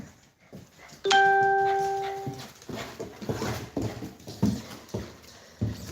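A doorbell chimes once with a ringing ding-dong, then dogs arriving home through a front door move about with scrabbling steps, bumps and soft whimpers, close by and fairly loud.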